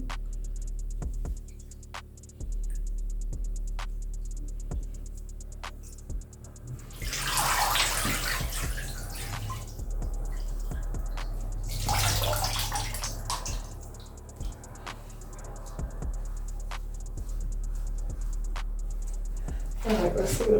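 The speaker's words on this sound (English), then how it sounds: "Then activate the bubbles." Bath water runs and bubbles in a bathtub in two loud surges around the middle of the clip, with faint drips and ticks in the quieter stretches before, between and after.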